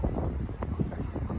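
Low, blustery rumble of wind buffeting a microphone, steady throughout with gusty swells, no clear voices.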